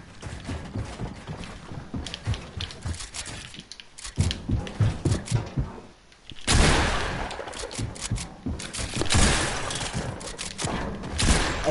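Rapid gunfire in a video game: bursts of quick, punchy shots with some continuous firing, loud and near, rising into a denser volley partway through.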